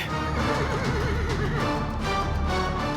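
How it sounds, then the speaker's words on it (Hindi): A horse whinnies loudly and close in a television drama, a long wavering neigh over a dense, noisy background with what sounds like hooves and scuffling throughout. "ये घोड़ा ऐसे क्यों कर रहा है?"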